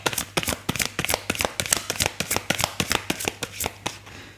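Playing cards shuffled and dealt for a tarot-style reading, a rapid, steady run of crisp riffling snaps and flicks, close and fairly loud, with no talking.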